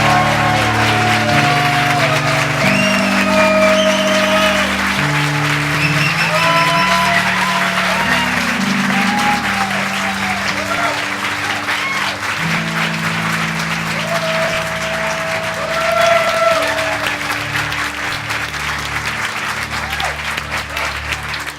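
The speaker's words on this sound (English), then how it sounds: "Now you may applaud these beautiful" Church congregation applauds at a Sunday service honoring named members, a broad sustained clapping that fills the room throughout while organ or keyboard tones sustain underneath.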